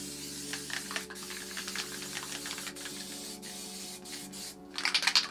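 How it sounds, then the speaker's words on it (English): MTN water-based spray paint hisses from a can in short, close bursts while misting a faded layer over black on an art piece, with a louder final burst at the end. "I'm just going to do a quick mist here"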